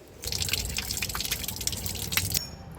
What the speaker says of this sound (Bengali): কামরাঙাটা খাওয়ার আগে একটু ধুয়ে নিই।